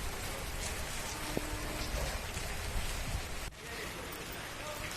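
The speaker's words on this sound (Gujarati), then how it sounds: "વીજળીના કડાકા ભડાકા સાથે અહીંયા ધોધમાર વરસાદ પડ્યો" Heavy rain pouring down in a steady, dense hiss close by, with no distinct thunderclap standing out, a sudden dip near the end.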